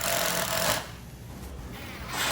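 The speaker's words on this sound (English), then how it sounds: "Then drive in a tech screw." A tech screw is driven by a powered driver into a pilot hole drilled in wood while a spring pole lathe is built, giving a loud, close whirring grind for under a second before dropping to quiet room noise, then another burst rising at the end.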